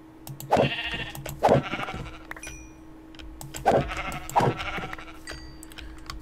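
Minecraft sheep bleat four times in two pairs, short and fairly close, over a low steady hum with faint clicks between them.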